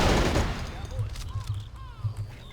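Gunfire crackles in the real-time strategy game Men of War: Assault Squad 2, a loud burst at first followed by scattered, quieter shots and battle noise at moderate distance.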